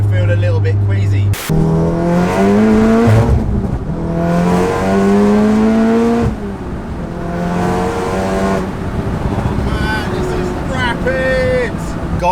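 A 700hp VW Golf R with a DSG gearbox accelerates hard, its engine note climbing through several rising sweeps and gear changes, loud and close from inside the cabin, with a voice talking over parts of it.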